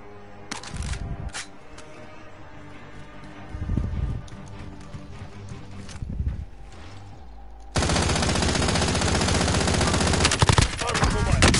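Gunfire in a PS4 shooter video game, including sniper shots: scattered sharp reports early on, then a loud, dense stretch of continuous firing and clatter in the second half.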